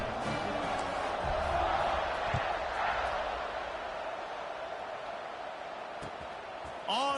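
A large college football stadium crowd at an Ole Miss vs Arkansas game murmurs and roars in a broad, distant wash, with a brief swell of cheering, a few sharp knocks, and a whistle near the end.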